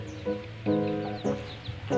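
Native chicken hen broody on her first day of sitting, giving repeated low clucks in short bursts close by, with faint bird calls in the background.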